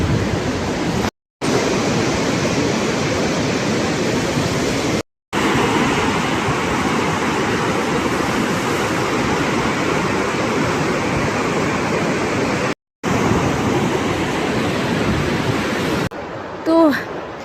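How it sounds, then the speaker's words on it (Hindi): A flooded river rushes through Lahaul in Himachal Pradesh, roaring loudly and without pause as a dense, steady wash of water noise, broken only by a few brief dropouts. "और हमारे यहाँ की रिवर देखो"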